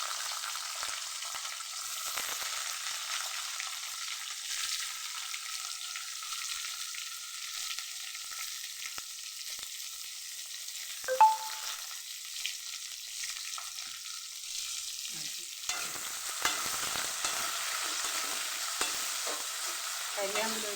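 Curry leaves and onion fry in oil for a green chicken gravy, giving a soft, steady sizzling hiss with a faint tone running through and a few light stirring knocks.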